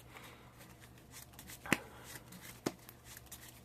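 A deck of trading cards for a Gren Maju OTK deck is shuffled by hand, soft riffling with a couple of sharp snaps, close and quiet.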